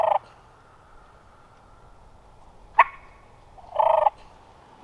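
A wild turkey gobbles twice outdoors, one short call and then a longer, louder rolling gobble, each standing alone over quiet background.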